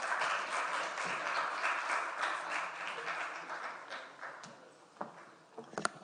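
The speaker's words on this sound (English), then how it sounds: "Let's give a round of applause for Dr." Audience at an alcohol research conference applauding in a steady wash of clapping that thins and fades toward the end, leaving a few scattered last claps.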